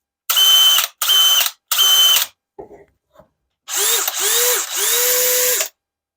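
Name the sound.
DeWalt compact drill running at speed 3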